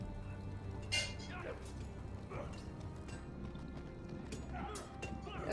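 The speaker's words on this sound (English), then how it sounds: "On a horse, no less." Horse hooves clip-clopping and a brief whinny in the Telltale Game of Thrones video game, moderately loud against game ambience, with soft voices heard faintly in the background.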